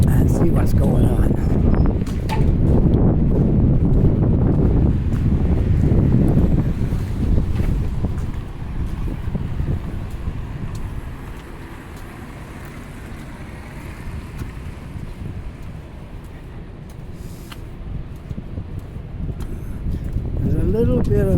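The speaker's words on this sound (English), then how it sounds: "A little bit of wind today, but not enough to hurt anything." Outdoor wind gusting and buffeting a microphone on a city walk up toward Gottingen Street in Halifax, a steady rumble that swells strongly at first, eases through the middle, then rises again, with no talking.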